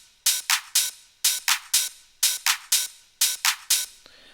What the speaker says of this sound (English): I have used 3 open hats over here with combination of the claps